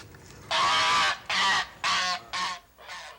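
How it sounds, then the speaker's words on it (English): Guard geese honk loudly and close by in California, five strong calls in a quick sequence, the last one weaker, with no talking over them. "They are guard geese."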